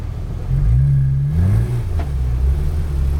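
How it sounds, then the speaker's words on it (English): A Porsche 911 GT3 engine rises in a loud, close, rumbling rev as the car accelerates on a track. The pitch climbs and then settles into a steady drone. "once this red Ferrari pulls up, we'll start rolling on the gas and we'll follow the red Ferrari"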